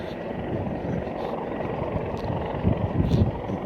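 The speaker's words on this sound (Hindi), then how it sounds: "किसी को रस्सी की मदद से हेलीकॉप्टर से उतारा जा रहा है।" A helicopter hovers while someone is lowered by rope, a steady, dense rotor rumble with wind buffeting that stays loud and continuous, swelling slightly toward the end.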